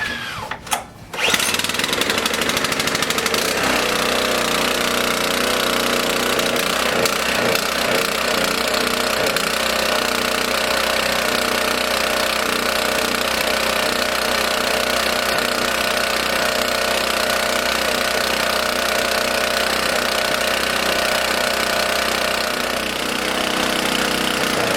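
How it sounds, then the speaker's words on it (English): Several small gasoline engines run at once outdoors on 87-octane fuel in a fuel-additive test, starting with sputters and then holding a steady, loud, continuous droning hum that lasts until near the end. "So let's go ahead and start these engines."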